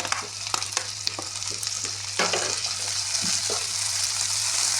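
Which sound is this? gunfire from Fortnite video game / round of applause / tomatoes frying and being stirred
tomatoes frying and being stirred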